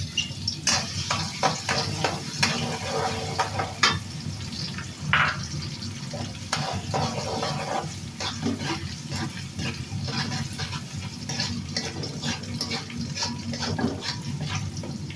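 Garlic fries in hot oil while a spatula stirs it around the pan, giving a steady close sizzle with repeated scraping clicks throughout.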